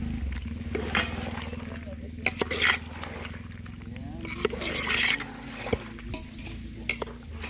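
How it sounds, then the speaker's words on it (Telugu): A spoon stirs spicy curry with chilli powder in a pan over a fire outdoors, giving a soft frying sizzle with scrapes and clinks of metal, while voices talk throughout. "కారం వేసేసుకొని బాగా తిప్పేసుకున్నాం"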